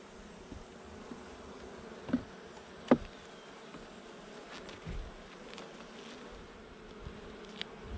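Honeybees buzzing around a hive frame they are drawing out, a faint continuous buzz with individual bees flying past close by now and then.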